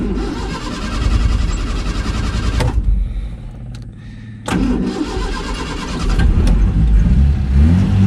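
Sunbeam Alpine car engine cranking, catching and running, with a loud rough idle and revving that rises toward the end; the engine briefly drops out midway before restarting.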